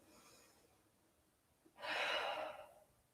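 A single deep breath during a Pilates child's pose: a faint inhale followed by a louder, breathy exhale about a second long, close to the microphone in a quiet room.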